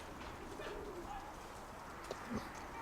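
Faint pigeon coos sound over a soft, noisy outdoor background, with a couple of brief low calls near the end.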